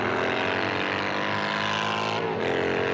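Loud, continuous engine howl of drag racing motorcycles, a Harley chopper against a Kawasaki in a modified bike class at a New Zealand drag strip, revving hard and then dipping briefly near the end.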